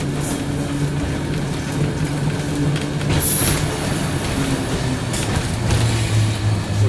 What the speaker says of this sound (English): And we bring our car to a stop.